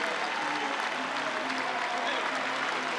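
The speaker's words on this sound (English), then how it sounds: "listen to the ovation from this Chapel Hill crowd" A Chapel Hill crowd at an NCAA baseball super regional between Arizona and North Carolina gives a standing ovation, with dense, steady applause filling the whole clip.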